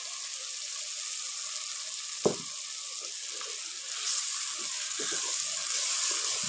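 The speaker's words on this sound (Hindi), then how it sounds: "मसालों की बुनाई करेंगे इससे" Ground spices splashed with a little water hiss and sizzle steadily in a hot pan while cooking a pea and turnip sabzi, with one brief clank of a utensil partway through.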